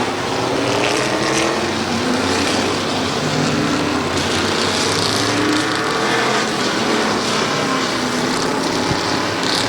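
Open Modified race cars roaring through a heat race at Midvale Speedway's fall classic, a dense continuous engine drone with shifting pitches as the pack circles, loud and unbroken.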